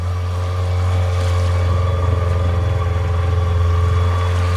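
A trailer sailer motors in at about 3 knots toward an anchorage, its outboard engine giving a steady, loud low drone with a constant hum and faint water wash throughout, no talking.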